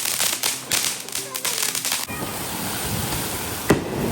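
Firecrackers set off at home during a Diwali evening celebration crack in a rapid, uneven string of sharp bangs, then a steady hissing crackle from burning fireworks continues, with one more pop near the end.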